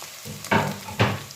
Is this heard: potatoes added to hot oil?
yes